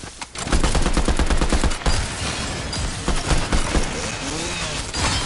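Rapid bursts of gunfire from a video game gun crackle loud and close, a dense fusillade at first, then scattered shots and rumbling effects.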